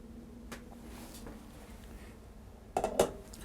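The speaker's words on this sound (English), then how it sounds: "I put a cover on this and then I turn the heat down" A lid clatters onto a metal cooking pot of shellfish chowder, two or three close, bright knocks near the end after a quiet stretch of low kitchen noise.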